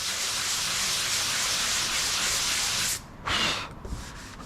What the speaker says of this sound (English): So we'll just keep sanding those edges and getting rid of that dome by going in a circle